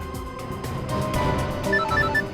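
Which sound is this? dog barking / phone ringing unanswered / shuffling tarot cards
phone ringing unanswered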